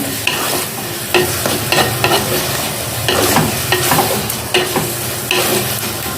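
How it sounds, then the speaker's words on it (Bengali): Chicken fries with Kashmiri chilli powder in a clay pot in a village kitchen. A steady close sizzle runs throughout, broken by repeated scraping stirs. "এটাকে আমি ভেজে নেব ভালো করে"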